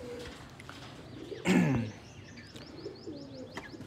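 Pigeons and partridges in an aviary, soft cooing and scattered chirps with one louder burst of wing flapping or scuffling midway, close and moderately quiet over a light ambient background.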